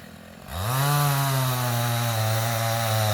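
A chainsaw cutting timber during timber stand improvement roars to life after a brief quiet moment, then runs at a steady, loud, droning pitch, close by.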